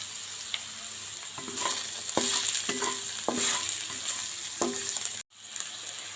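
Chopped ginger and garlic sizzle in hot oil in a pan, with a steady frying hiss broken by several clanks and scrapes of stirring. It cuts off abruptly near the end, then the sizzle resumes.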